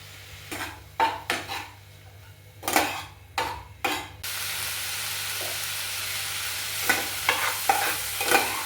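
Vegetable filling for momos stir-fried in a pan, seasoned with salt and turmeric: repeated spatula scrapes and clatter in short bursts, with a steady sizzle rising between them and no talking.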